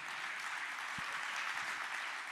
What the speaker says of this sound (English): Could I get you to clap your hands for the love of God?